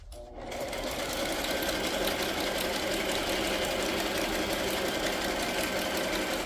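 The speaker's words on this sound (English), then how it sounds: "Again, just doing a zigzag because I like the zigzag. I like wonky stitching too." Sewing machine zigzag stitching through straw paper while binding a handmade matchbook notebook, a steady close motor whir with rapid needle chatter running continuously and alone.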